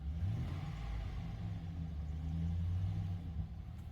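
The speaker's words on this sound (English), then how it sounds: "Got it all started up. Sadly, got that factory exhaust." A car engine with its factory exhaust idles steadily, a low, smooth rumble that stays even throughout, heard from close by with no talking.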